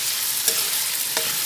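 Potatoes frying alongside chicken in a pan for aloo chicken, a steady close sizzle with two soft spatula stirs breaking through, no voices.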